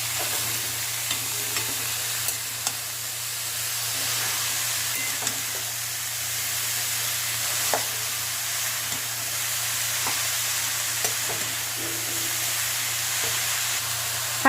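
Shredded cabbage frying with spice paste in a pan over a high flame, a steady close sizzle with faint stirring scrapes and clicks, no voices.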